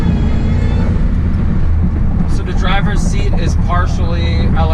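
A Ford SVT Lightning pickup's engine drones as a steady, loud low rumble from inside the cab, with someone talking over it throughout.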